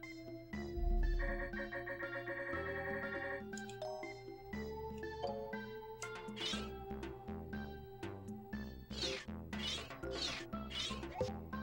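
Meowth, the cat Pokémon, meows in the Nintendo 64 game Pokémon Snap, giving several short cat-like cries in the second half over looping game music, with no talking.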